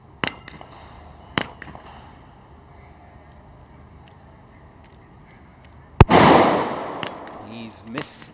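Sniper rifle shots ring out at a Texas Star steel target during a SWAT challenge: two sharp distant cracks early on, then a loud close blast with a long rumbling echo, against quiet outdoor background.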